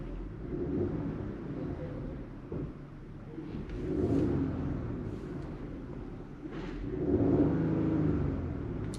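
A 2022 Genesis GV70 engine with a misfire runs in a low, uneven rumble that swells and eases in a couple of surges, heard fairly close with no talking.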